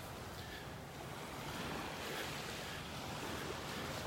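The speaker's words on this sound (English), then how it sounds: "The waves are dying down." Gentle ocean waves washing onto a beach in North Naples, Florida on a calm morning, a soft, continuous wash of surf with light wind noise, fairly faint and without speech.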